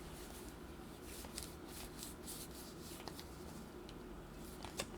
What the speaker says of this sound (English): I shuffled this deck and everything's in reverse.